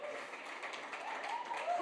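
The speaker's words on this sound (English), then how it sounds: "keep the round of applause going" Audience applause at the UK Barista Championship semi-finals, a coffee competition: a brief, steady patter of clapping from a crowd, moderately faint, with voices mixed in.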